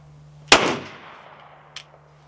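One loud gunshot cracks close by at a shooting range and rings off into a decaying echo, followed by a couple of faint distant pops.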